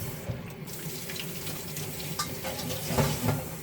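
Tap water runs steadily into a sink while raw duck meat is washed under it for curry, a continuous close splashing rush with faint handling knocks and no talk.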